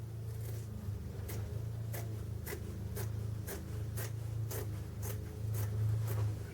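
Scissors cut steadily through a pleated fabric window shade, a row of crisp snips repeating about every half second over a low steady hum, close and moderately quiet.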